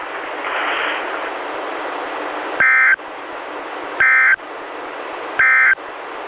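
A NOAA weather radio warning alarm sounds as three loud, evenly spaced buzzing tone bursts over a steady hiss of broadcast static.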